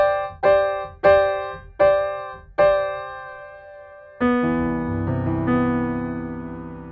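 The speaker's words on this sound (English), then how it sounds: "the mod in itself basically gives you a bit of a chorus effect" Piano plugin notes with the mod wheel adding a chorus effect: five separate struck notes ring and decay, then a sustained chord swells in with a slightly wavering, thickened tone.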